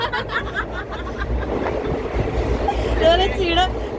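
Continuous low rumble and rattle of a moving train carriage, with people talking and laughing nearby over it.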